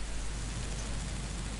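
Steady, even hiss of Minecraft rainfall fills the clip, a constant soft wash without distinct drops or any talking.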